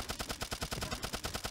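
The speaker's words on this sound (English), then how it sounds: "I'm going to shoot down here because I don't want them to come and attack us." Rapid, evenly spaced gunfire in the video game Turnip Boy Robs a Bank, a steady burst of about a dozen quick shots with no talk.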